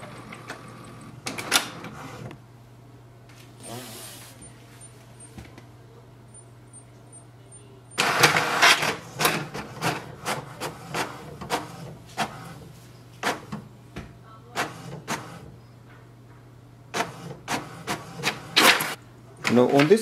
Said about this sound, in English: Press the information button once and wait for the printer to print a page.